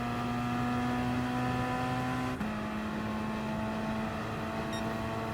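A Gr.3 race car in Gran Turismo Sport drones along the long straight at Fuji, its engine holding a steady high-revving tone that drops abruptly to a lower pitch midway, as on an upshift, then carries on evenly.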